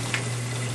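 Pump parts boiling in a pot of water on a stove for sterilization, giving a steady bubbling sizzle with a low constant hum underneath, brief and close.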